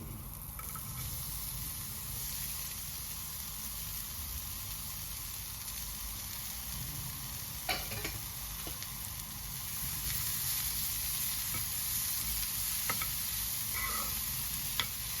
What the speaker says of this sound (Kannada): ಅರಿಶಿನ, ಈಗ ಈರುಳ್ಳಿ ಹಾಕ್ಕೊಳ್ತಾ ಇದ್ದೀನಿ